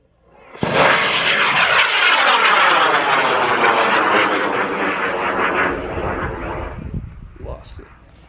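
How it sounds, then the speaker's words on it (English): A model rocket ignites on a launch pad at a large high-power rocketry meet, letting out a sudden loud roaring whoosh that holds for about six seconds before fading as it climbs away, with crowd voices around. "We're going to launch on pad 4-1 in 5, 4, 3, 2, 1, ignition."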